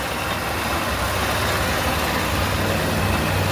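A scooter engine idles after a partial overhaul, giving a steady, loud, continuous low rumble that holds evenly throughout with no talking.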